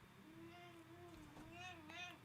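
A cat meows a few times during a live stream, high, wavering cries rising and falling close to the microphone against a steady background hum, with no talk over it.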